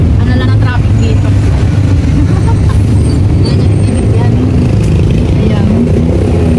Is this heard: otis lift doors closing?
no